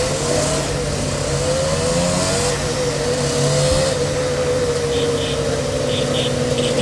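A 1979 Puch 75 two-stroke moped engine runs steadily and loud, with a buzzing mid-pitched drone that rises and dips slightly as it idles and revs, continuous throughout.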